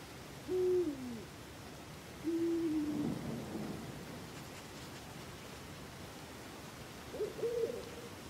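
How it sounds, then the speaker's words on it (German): An owl in the video game Endling gives three hoots spaced a few seconds apart over a steady backdrop of rain and rumbling thunder. "Oh, die Eule."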